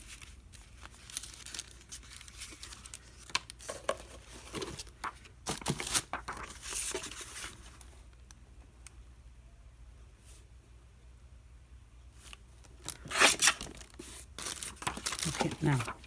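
Scissors cut a paper envelope flap in a series of short, close crisp snips and rustles, with quieter gaps between them and a louder burst of cutting near the end.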